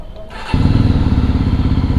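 Yezdi Roadster motorcycle engine catching after a brief quiet moment, then idling loudly and steadily with an even, throbbing pulse close by.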